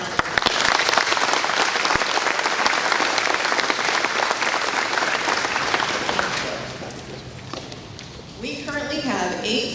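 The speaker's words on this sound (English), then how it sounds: "Let's give them a round of applause." Audience round of applause at an agricultural awareness event honoring high school floral program students, loud dense clapping that fades slightly near the end as a voice begins speaking.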